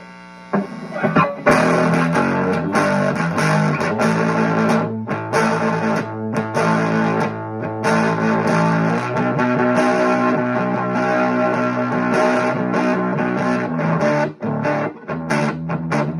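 Electric guitar through a Fender 600 amp with its switch on and the level at about 5 or 6: heavily distorted, saturated chords and riffs ring out loud and close, with a humming, buzzing edge and short gaps between phrases.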